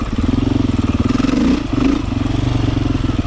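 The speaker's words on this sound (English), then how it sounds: "Yeah, I love the sound of this bike." A Beta 500 dirt bike engine runs steadily up close, its rapid regular firing pulses throbbing loudly throughout, with a brief surge in revs midway and no talk.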